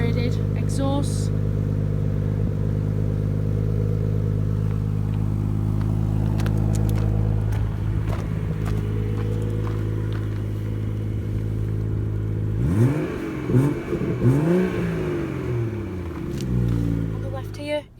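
A BMW 2 Series Performance Edition with an M Performance exhaust idles with a steady low rumble, then revs up in several sharp rising and falling blips near the end, with a voice speaking briefly over it.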